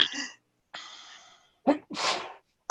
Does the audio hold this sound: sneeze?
yes